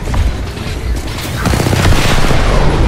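Rapid automatic gunfire in the Apex Legends battle royale game, dense bursts of shots that grow louder and more continuous toward the end, with heavy low booms underneath.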